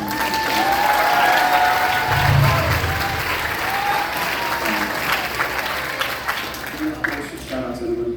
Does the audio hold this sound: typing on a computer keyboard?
no